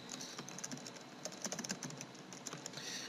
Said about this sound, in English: it'll let me type a description for this particular meta tag set